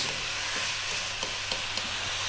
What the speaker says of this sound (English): We're going to stir fry again, high heat